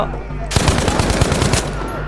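Rapid automatic gunfire from the Battlefield 5 video game, a dense burst of loud repeated shots lasting about a second after a brief quieter lead-in.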